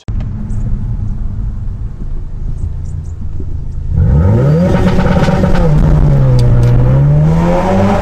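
A stock 2017 Ford Focus RS idles with a low rumble, then its exhaust revs up and holds in rising and falling sweeps, loud and close, with no talking.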